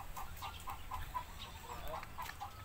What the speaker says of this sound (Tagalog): may maraming mga manok dito